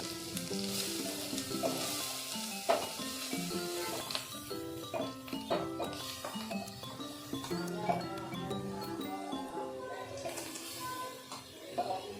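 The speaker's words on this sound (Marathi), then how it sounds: "दोन चमचे घी टाकायचा आता त्याच्यात ही किसलेली गाजरं टाकायची आहेत" Grated carrots sizzle and fry in ghee in a pan for gajar halwa, with a steady crackle, occasional stirring and clinks of a utensil, close up, no talking.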